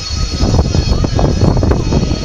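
Two aeroplanes flying in formation at the Shoreham airshow give a loud, steady engine roar with a broad rushing drone that holds for the whole stretch.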